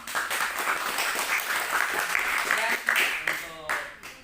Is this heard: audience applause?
yes